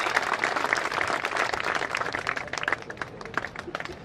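Crowd at the opening ceremony of a biocoal factory applauds in a steady, moderately loud wash of many hands clapping, fading slightly toward the end, with faint voices mixed in.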